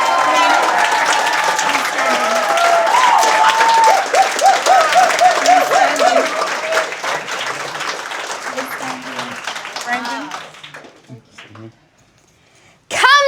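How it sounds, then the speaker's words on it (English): A large audience gives a big, sustained round of applause for the final pitch at a youth pitch session. Dense, loud clapping fills most of the stretch, with voices talking over it, then thins out and fades near the end. "we give our final giant, extraordinary round of applause for our very last pitch"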